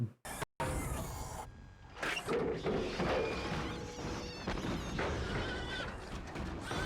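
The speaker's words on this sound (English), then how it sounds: "It sounds funny to hear him squeal like a pig until you get to know that that's recording from Pig's Slaughterhouse" A shrill, bleat-like pig squeal from a slaughterhouse recording, used as a scream in the 1987 film RoboCop, rises through loud, chaotic movie sound with crashes and thuds.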